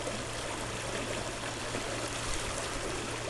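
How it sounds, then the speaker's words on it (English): A river flows in a continuous broadband rush of water, loud and close, steady throughout with faint trickling detail and no voices. "The sound of the river actually was going to be relaxing for an audio like this."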